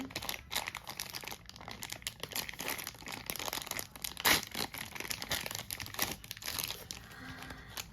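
Plastic wrapper of a toy surprise package crinkles and crackles close by as it is pulled open, with irregular rustling throughout and one sharper tearing burst midway.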